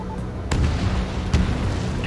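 A target explodes in the combat flight game Ace Combat 7, giving two sharp booming bursts about a second apart over a steady rumbling game backdrop.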